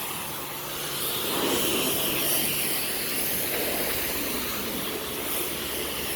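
A high-pressure sprayer at 160 bar runs at a self-service car wash, a steady, loud, broadband hiss of water jetting continuously for several seconds with no pauses.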